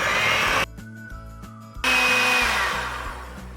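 Electric hand mixer whirring through pumpkin roll batter, a loud steady motor drone that stops briefly and then resumes, close by with no talking.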